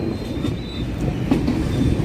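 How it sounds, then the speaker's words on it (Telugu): Train wheels rumble steadily over rails as the carriage crosses a track change on a run from Kadapa to Kurnool, a continuous loud low roll with faint clicks and no voices. "ట్రాక్ చేంజ్ అవుతుంది."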